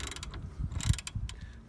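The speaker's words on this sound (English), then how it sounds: "you need a 13 spanner on the bottom of the caliper." A 13 mm spanner works loose the lower brake caliper nut on a 2011 Citroen C3 Picasso during a disc and pad change, giving a close, rapid run of metallic ratcheting clicks with no talking.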